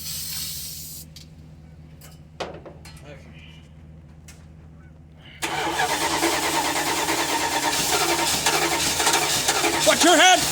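A car engine cold-starting in freezing, snowy weather: a few faint clicks and a short cranking burst, then the engine catches and settles into a loud, steady running drone.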